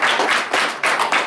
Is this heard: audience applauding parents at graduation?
yes